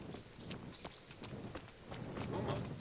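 Horse hooves clip-clopping at a walk in the video game Kingdom Come: Deliverance, a steady run of soft, fairly faint hoof knocks over low outdoor ambience.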